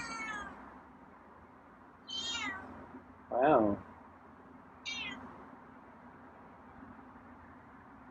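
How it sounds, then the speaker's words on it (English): A feral cat meows several times, with separate drawn-out calls spaced a second or more apart, one louder and lower than the rest, set against a quiet background hum. A person briefly speaks. "What's the meow for?"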